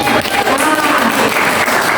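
A school audience applauding a teacher during a session at a junior high school in Surabaya: loud, dense, continuous clapping close by, with voices mixed in.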